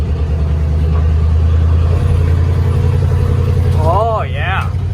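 A Chevrolet Tahoe engine runs steadily in four-wheel drive, a continuous loud low rumble close by, with a voice speaking briefly near the end.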